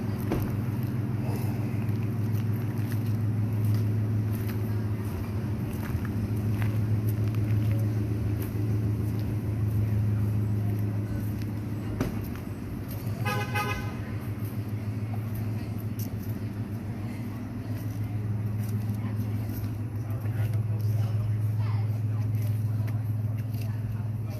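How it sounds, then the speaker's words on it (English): Steady low road rumble of cars passing nearby at night, a continuous drone with slight swells as vehicles go by, while a person speaks briefly over it. "Too many cars around here."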